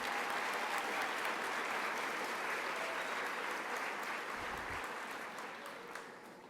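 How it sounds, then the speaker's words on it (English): Sustained applause from a school graduation audience, a dense steady clapping that fills the room and slowly fades toward the end. "Please give them a round of applause."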